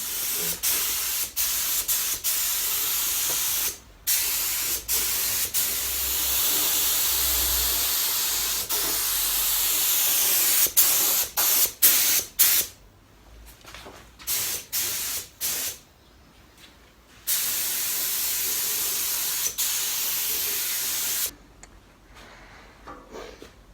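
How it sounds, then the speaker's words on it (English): Loud hissing bursts of spray paint coat the chassis of a Cummins-powered 1973 Foden S80 British lorry under restoration, coming in long passes broken by short pauses and a few quick clicks. "So we're going to paint that in this position, paint the chassis in that position."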